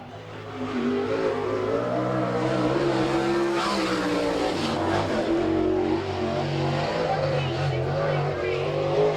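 Sprint race car from an NCRA All Stars field lapping a dirt oval at Salina, Kansas, its engine roaring loud and steady with rising and falling revs as it circles, under a track announcer's voice.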